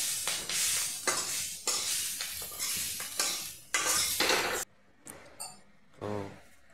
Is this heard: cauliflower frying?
yes